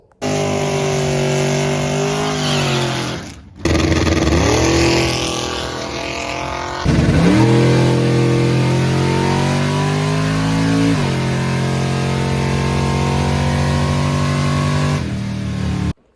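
A race truck engine at a bracket race revs hard through a series of rising gear pulls, loud and close, with a short cut in power between shifts and no talking over it.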